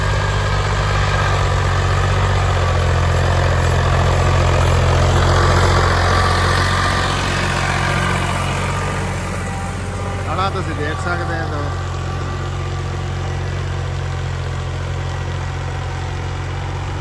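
A tractor engine idles steadily without smoke, a deep continuous rumble with a low droning hum running loud and close throughout, easing slightly in the second half.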